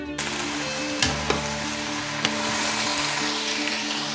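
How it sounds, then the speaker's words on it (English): Onion and garlic fry in a pan with a steady, close sizzle, broken by a few sharp clicks of a utensil against the pan. "So the onion and garlic is fried."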